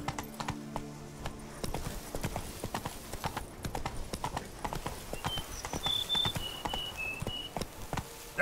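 Horse Roach's hooves clip-clop at a steady walking rhythm in The Witcher 3, fairly close, with faint insect chirps and a few brief tonal calls in the background.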